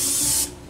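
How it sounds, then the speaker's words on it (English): Cooking spray hisses onto a 9x13 casserole dish in one short continuous burst, close and loud, then cuts off. "I'm going to spray a 9x13 casserole dish."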